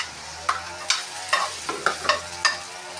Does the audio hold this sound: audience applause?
no